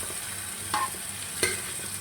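Boiled snake gourd being added and stirred into scrambled egg frying in a pan, with a faint steady sizzle and a couple of soft scraping clinks from the utensil.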